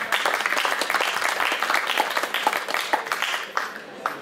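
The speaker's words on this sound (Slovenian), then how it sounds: "Lahko damo en aplavz, ti Matej." Audience applause at a Slovenian literary award ceremony during a book fair, a dense steady patter of clapping from a crowd that tapers off toward the end.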